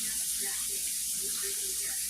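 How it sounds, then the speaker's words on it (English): Liquid is poured over baked chicken, splashing and streaming steadily for a couple of seconds, a soft continuous wet hiss close by, with a faint voice murmuring underneath. "then I pour it on here like this"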